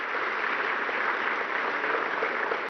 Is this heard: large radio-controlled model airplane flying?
no